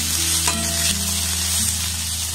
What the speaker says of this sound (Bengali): নিয়েছি একটা পেঁয়াজ টুকরো টুকরো করে কেটে এই পেঁয়াজটাকে দিয়ে দেব।